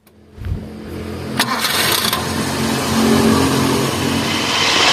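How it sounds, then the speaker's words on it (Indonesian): A 1994 Toyota Kijang Grand Extra with a 1.5 engine cranks briefly and catches, then settles into a steady, smooth idle that stays close and fairly loud throughout. "Nah, ini udah kita nyalakan mesinnya"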